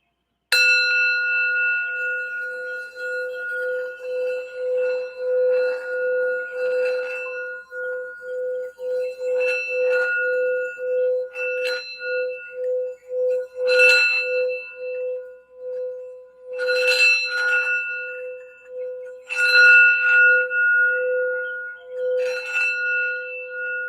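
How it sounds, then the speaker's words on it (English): A sound bell rings with a sustained, pure metallic tone, struck again and again at irregular intervals, each strike adding bright shimmering overtones over a long, clear, close hum. "I'm going to do the sound bell real quick"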